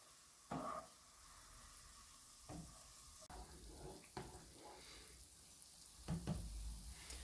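Soft sizzling of onions caramelizing in a pan for mujaddara, broken by intermittent scraping clatters as they are stirred, close by with no talking.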